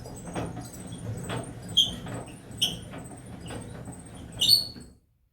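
A Rover P5 MK1 engine with no compression being turned over by hand: a few short squeaks and mechanical clicks at irregular intervals, close by and fairly quiet, stopping abruptly into silence.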